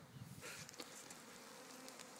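A honeybee swarm hanging about 12 ft up in a tree, giving off a continuous soft droning buzz with no talking.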